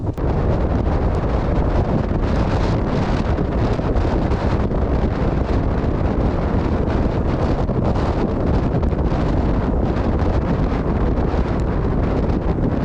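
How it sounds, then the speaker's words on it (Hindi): Strong wind roars at Visapur Fort, a loud, continuous gusty rush buffeting the microphone with no break from start to finish. "खतरनाक तेज हवा चल रहा है।"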